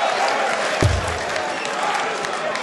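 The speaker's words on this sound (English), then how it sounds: "Applaud the maximum anyway." A darts crowd at the 2012 World Darts Championship applauds a maximum 180 in the Jennings–Thompson match, with a steady wash of clapping and a dull thump partway through.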